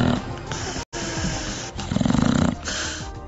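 A person snores loudly with rough, rattling breaths, including a strongly vibrating pulsing stretch midway, with a brief silent gap early on.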